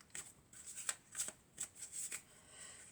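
Tarot cards are handled and shuffled in a quick series of soft riffling flicks and slides, faint and close, with no talk.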